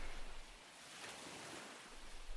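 Waves wash onto a winter seashore, a broad hissing surge that swells and recedes with wind rumble, steady and moderately distant with no voices.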